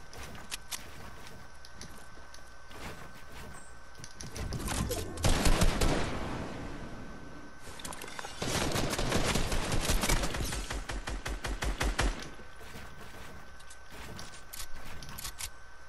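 Video game gunfire rings out in dense rapid bursts, two long volleys of close, sharp shots separated by quieter stretches with scattered single clicks and mechanisms.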